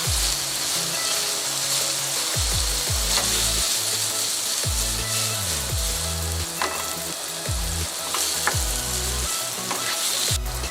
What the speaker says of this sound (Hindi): चूल्हे की आंच बिल्कुल कम रखें। उसके ऊपर इससे अच्छी तरह गला लें चिकन को आप।